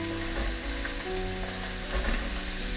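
Chopped asparagus sizzles gently in a pan over low heat, a steady soft frying crackle with occasional stirring scrapes, close and continuous.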